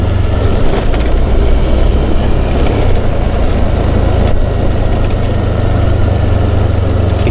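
Motorcycle engines idle nearby on a dark night, a loud, continuous low rumble that holds steady without revving.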